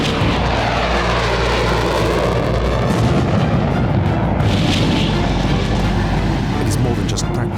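Fighter jets of the Israeli Air Force fly steep-angle dive bombing practice runs on a small target, a loud continuous roar of jet engines with deep booming rumble that stays constant throughout.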